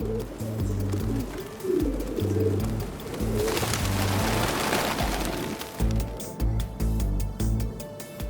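Pigeons on a London street coo in low, throaty bursts, close and fairly loud, broken midway by a rush of noise like flapping wings before the cooing resumes.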